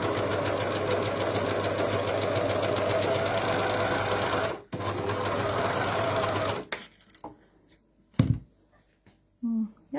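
Overlocker sewing machine running fast and continuously, a loud close mechanical whir with rapid rhythmic stitching, briefly pausing then stopping after about seven seconds, followed by a few short handling bursts.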